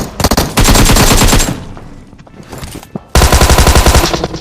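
Loud video game automatic gunfire crackles in two long sustained bursts, separated by a short quieter stretch with scattered single shots.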